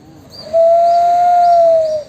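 A single owl-like hoot, a sustained smooth hollow tone lasting about one and a half seconds. It is loud and close, heard alone with no talking.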